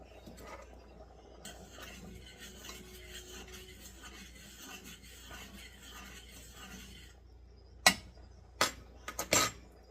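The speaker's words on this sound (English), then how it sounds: "Now I'm stirring up the cheese sauce, mixing it in with the butter" A spoon stirs cheese sauce with butter and milk for shell pasta: a steady, soft scraping and swirling for about seven seconds, followed by three sharp, separate knocks of the utensil against the pot.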